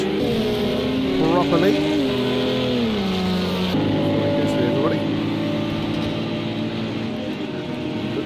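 Engine drone of LMP1 race cars lapping the Nurburgring in the video game Project CARS 2, a steady layered tone with pitch shifts, running continuously under a commentator's voice.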